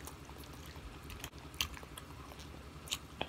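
Eating crawfish and shrimp fettuccine close to the mic, with soft wet chewing and a few sharp crisp bites spaced irregularly, no talking.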